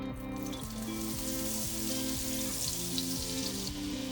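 Butter melting in a pan over medium heat, giving a continuous low crackling sizzle that stays steady and fairly quiet throughout, with no other sounds over it.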